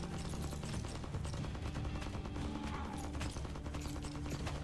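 Rapid SMG gunfire in a zombie shooter game runs continuously in dense bursts, mixed with game effects throughout.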